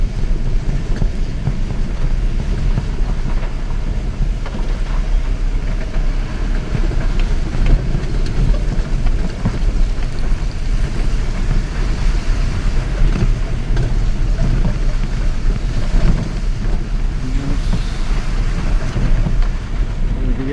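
Strong wind from a Kalbaishakhi (nor'wester) storm roars continuously, buffeting the microphone with low, gusty rumbling that never lets up.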